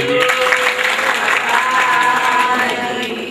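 An audience applauds to welcome a speaker named Prakashbhai at a spiritual gathering: close, full, steady clapping throughout, with a faint voice blending in beneath it.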